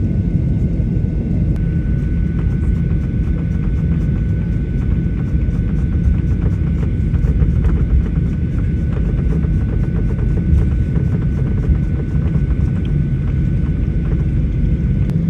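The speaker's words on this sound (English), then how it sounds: "Now the plane has finally arrived on the runway and now the plane is going to take off from Addis Ababa." Steady low rumble and hum of an Ethiopian Airlines Boeing 737-800 moving along the ground at Addis Ababa airport before takeoff, heard from inside the cabin as a continuous, even drone with no talk.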